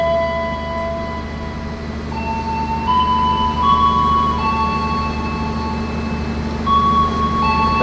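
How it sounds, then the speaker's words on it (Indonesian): The Taksaka luxury passenger train stands at platform 5 of the station, bound for Gambir, with a steady low locomotive rumble and sustained tones that step up and down in pitch over the top. "Jalur 5 peron utara kereta api Taksaka tujuan Gambir persiapan diberangkatkan."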